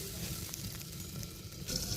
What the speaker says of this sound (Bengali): চালটা খুব ভালো মতো ভাজতে হবে।